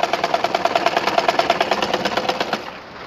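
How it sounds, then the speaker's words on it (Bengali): Sewing machine stitching a cloth Quran cover, a fast even chatter of needle strokes running steadily for over two seconds before slowing and fading, close and clear. "সেলাইটা যেন আঁকা বাঁকা না হয়, সোজা করে সেলাই করলে কাভারটার সৌন্দর্য বৃদ্ধি পাবে"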